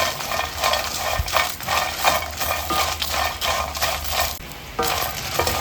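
Steady frying and sizzling as ingredients for Coorg taliya puttu roast in a pan, with a spoon stirring and scraping throughout, fairly loud and close, no voices.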